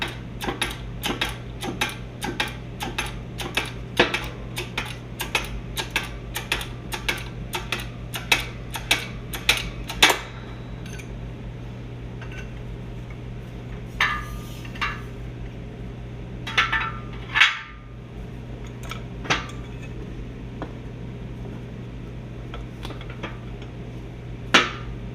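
A socket is forced against a worn steering gear bushing from a 1966 Ford Galaxie 500 to push it out. Sharp metallic taps come in a fast, regular run, then thin to scattered knocks over a low steady hum.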